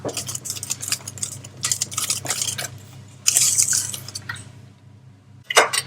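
Lemon zest is worked into cake batter in a bowl, a series of close, wet clattering strokes of a utensil against the bowl, bursting louder midway before a short lull and a final scrape.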